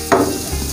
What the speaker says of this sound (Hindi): इसको स्टर फ्राई करना है हमने।